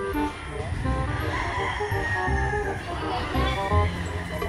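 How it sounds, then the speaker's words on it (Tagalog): Roosters and other gamefowl at a game farm in the Philippines, showing imported bloodlines, cluck and call steadily over a busy background with people talking nearby. "sa mga nakikita kong mga manok dito sa Firebird Game Farm"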